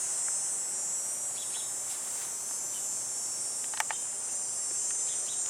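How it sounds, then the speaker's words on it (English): Cicadas in a mid-July summer garden give off a steady, loud, high-pitched drone that holds without a break throughout, with a couple of faint chirps standing out briefly. "Oh, those cicadas are a bit intense."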